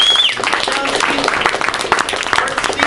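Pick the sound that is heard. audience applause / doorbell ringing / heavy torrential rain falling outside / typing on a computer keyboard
audience applause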